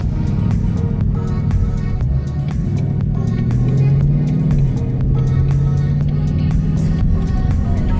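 A GT car drives along on a rainy day, heard from inside the cabin as a steady, loud low engine and road rumble with faint, regularly repeating ticks and taps over it throughout.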